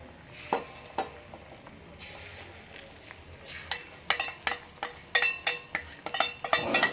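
Egg curry and ponganalu cooking in a pan, with a soft steady sizzle under scraping stirs and metallic clinks of utensils against the pan that quicken and grow louder toward the end.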